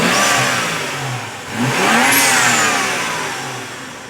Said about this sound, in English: You can definitely hear the turbo spool up a lot more.